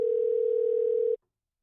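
A telephone call tone plays as a single steady electronic beep, loud and close, held for just over a second before it cuts off into silence.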